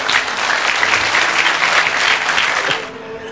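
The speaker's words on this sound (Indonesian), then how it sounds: "Tepuk tangan untuk beliau ya." A gathered audience at a talk applauds the speaker with loud, dense clapping that continues steadily for a few seconds and then drops away abruptly near the end.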